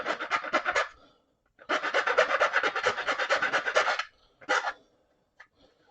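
A tiny hand file rasps back and forth in quick rhythmic strokes, close and distinct, in three bursts separated by brief silences.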